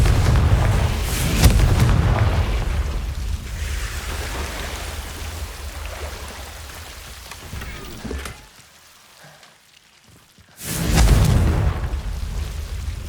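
In Hogwarts Legacy, the Confringo fire spell bursts into booming explosions, one early and another near the end. A constant rain-like hiss and a brief quieter gap run between them.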